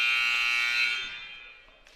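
Electronic buzzer ending the first half of a college basketball game between Nyack and Felician, a single loud sustained tone that fades out over about two seconds.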